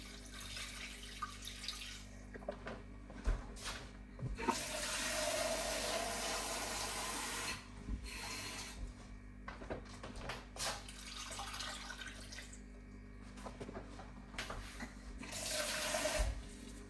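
Tap water running and pouring into a pan for elderflower cordial, about 1.5 litres in all, in several steady bursts of splashing flow with short pauses between them.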